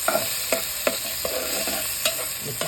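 Tomatoes being stirred in a pan for squid adobo, a utensil scraping and tapping in irregular strokes over a steady close sizzle, with no talking.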